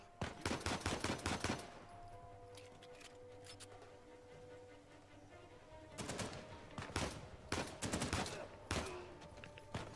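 Bursts of rapid gunfire from shooting enemies in Uncharted 4: A Thief's End, dense volleys at the start and again near the end, with quieter ambient game sound between and a faint voice.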